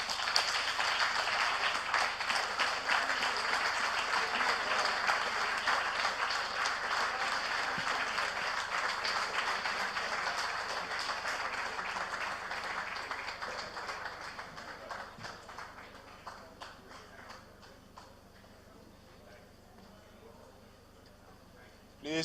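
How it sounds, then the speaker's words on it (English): Sustained audience applause at a business lunch, a broad wash of clapping from a large room that holds steady for many seconds, then thins and fades away near the end. "Please keep the round of applause going."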